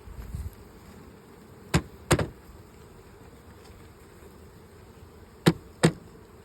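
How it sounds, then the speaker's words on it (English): Four sharp taps on a beehive land in two pairs, with a soft buzzing hum of bees continuing between them at low level. "So a couple of taps and the bees go."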